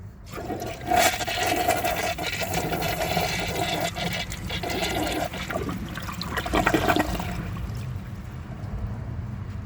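A 1999 Crane Hymont toilet flushes with a nut lodged in its siphon jet, a loud sustained gush and swirl of water that carries on steadily for several seconds before easing slightly.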